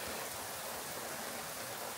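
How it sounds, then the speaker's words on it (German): Rain falls steadily at night, an even, soft hiss of drops with no breaks or distinct impacts, heard alone without voices. "aber ihr hört, es regnet."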